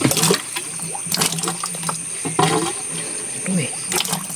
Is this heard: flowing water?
yes